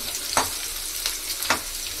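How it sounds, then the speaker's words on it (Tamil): Onions sautéing in a pan for chicken gravy and pepper chicken, with a steady broadband sizzle and a few sharp stirring scrapes standing out, close and moderately loud with no talking. "சாறு அந்த வெங்காயம் பாருங்கள் ஓரளவுக்கு வதங்கிச்சு."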